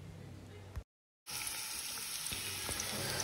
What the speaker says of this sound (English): I'm here frying some onions and cooking some noodles here